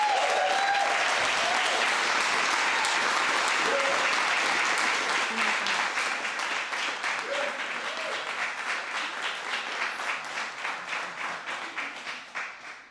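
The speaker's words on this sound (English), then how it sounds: "another round of applause for Bree Nine." A large audience claps steadily at a Juneteenth remembrance and reading event, dense and sustained at first, then thinning into scattered, fading claps toward the end.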